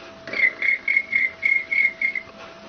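A woman imitates a cricket with a thin, high whistled chirp repeated seven times in an even pulsing rhythm, close and moderately loud over a quiet background.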